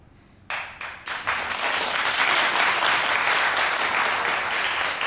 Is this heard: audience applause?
yes